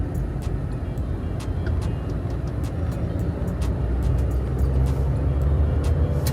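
Inside a moving car, a loud steady low rumble of engine and road noise fills the cabin as it drives and turns, with faint ticking clicks above it and no talking.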